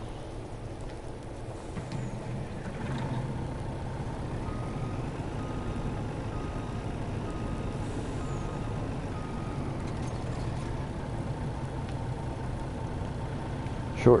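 A truck pulling a trailer in a land-making game rumbles steadily as it moves off, with faint high beeps and brief hisses over the engine drone and a voice heard now and then.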